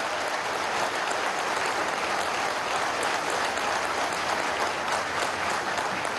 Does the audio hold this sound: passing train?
no